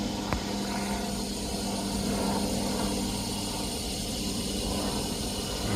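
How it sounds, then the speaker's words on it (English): A steady rotor drone of a helicopter going by during stormy weather, with a low continuous hum and engine whine at moderate loudness and no voices. "A helicopter going by."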